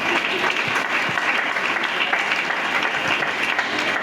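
Congregation at a youth convention church service breaks into applause and acclamations, a thick wash of clapping from a large crowd, even and sustained, heard at moderate distance.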